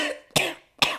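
Two sharp, close coughs about half a second apart, each a loud broadband burst that fades quickly, with a trailing bit of voice just before the first.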